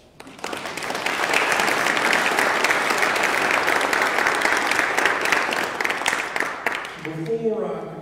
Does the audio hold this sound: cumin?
no